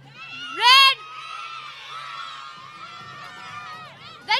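A crowd of children at a rugby league champions event bursts into a loud high-pitched cheer and screams, then keeps chattering and shouting through the rest of the moment, with another brief shout rising at the end.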